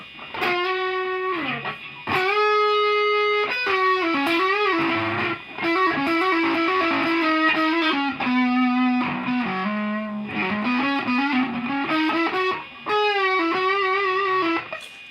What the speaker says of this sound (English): I'll come in here with a little distortion and just shred for a little while